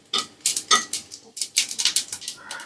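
Cumin seeds fry in ghee in a pan on a low flame and are stirred: close, irregular clinks and scrapes of a spoon against the pan in short bursts, with no talking.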